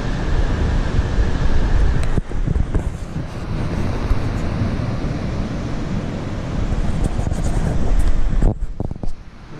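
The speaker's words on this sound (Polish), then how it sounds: "mam nadzieję, że słychać ten ocean" Ocean surf rolls steadily below a balcony at night on Tenerife, a broad continuous wash of waves with wind buffeting the microphone, fairly loud and sustained, with no voices.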